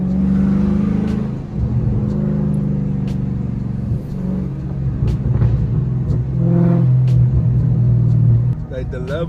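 A Dodge 392 engine rumbles steadily from inside the car while driving, a deep low drone that swells as it revs, with people talking over it.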